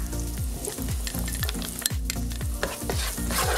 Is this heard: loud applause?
no